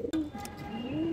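A male pigeon gives a short, close coo, a soft low throaty call rising at the end, heard alone with no voices.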